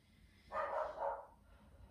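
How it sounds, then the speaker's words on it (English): A dog barks in a short burst indoors during a home yoga session, one loud outburst standing clear of a quiet room. "Don't mind my dog Jack losing his mind."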